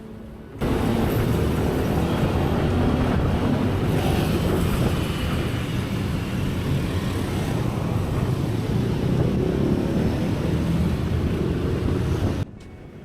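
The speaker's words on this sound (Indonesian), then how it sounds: "karena bakal kalah sama suara mesin motor kita sendiri" Dense, roaring motorcycle engine and wind rumble, recorded by an action camera's internal microphone inside a helmet, fills the recording at a steady loud level, starting abruptly and cutting off near the end.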